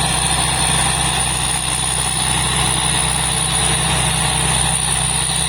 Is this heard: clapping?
no